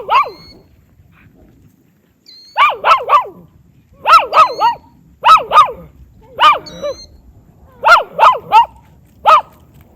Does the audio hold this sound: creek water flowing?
no